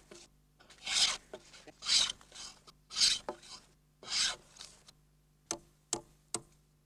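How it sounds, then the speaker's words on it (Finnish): Jack plane smoothing wooden floor planks in a Finnish wooden house: about four close, rasping strokes at a steady rhythm, followed by three short sharp scrapes, with no speech. "Pienet epätasaisuudet poistetaan viimeistelyssä härkähöylällä."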